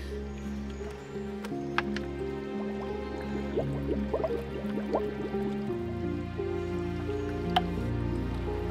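Small drips and trickles of water at a creek water source patter irregularly over a steady low hum, close by and fairly quiet.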